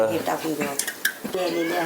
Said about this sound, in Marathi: हे सर्व वेपर्स या ठिकाणी आपण याच्यामध्ये टाकत आहोत